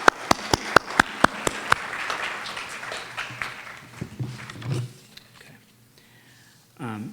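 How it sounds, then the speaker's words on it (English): Applause for the Gurukulam team at an anniversary celebration: a few sharp, evenly spaced claps up front, then a short burst of crowd clapping that fades to quiet before a voice starts. "So another round of applause for them, please."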